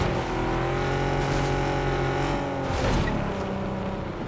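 Car engine droning steadily in the PUBG battle royale game, a continuous loud motor hum with rising and falling pitch as the vehicle moves, no talk over it.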